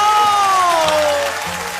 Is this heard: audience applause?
yes